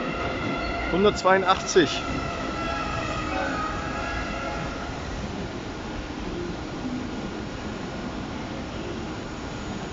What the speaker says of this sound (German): Güterzug